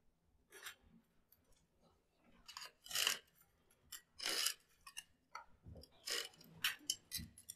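Scissors snip and crunch through fiberglass reinforcement mesh tape pressed into a ceiling corner during a cracked-ceiling repair, several close, sharp cuts in irregular bursts, with no talking.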